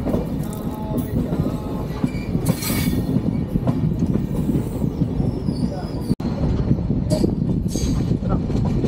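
The Kamakhya Capital Express passenger train runs on rails from Siliguri toward Kamakhya, heard from on board: a loud, steady rumble and rattle of wheels with occasional squeals, and a brief break partway through.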